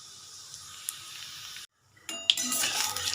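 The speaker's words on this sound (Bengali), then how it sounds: "জিরেটা ভাজা হয়ে গেছে" Whole cumin seeds frying in hot Emami rice bran oil, a faint crackle that drops to near silence, then returns as a brighter, louder sizzle with small clinks of a utensil.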